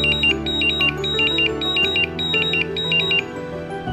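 An iMAX B6AC charger signals a fully charged LiPo battery with a series of short, high electronic beeps in quick repeated groups over a steady low hum.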